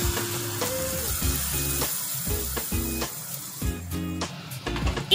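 Chicken pieces sizzling as they hit a hot spiced pan for Kerala-style pepper chicken, a steady frying hiss with clinks and scrapes of stirring, close and moderately loud.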